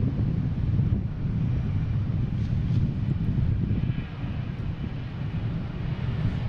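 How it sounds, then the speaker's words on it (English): A Delta Boeing 737-800 airliner at Boston Logan International Airport gives a steady, heavy low roar of jet engines. Gusty wind rumbles over the microphone throughout, with no talk. "Oh, we have a Delta Tampa flight for our Tampa people."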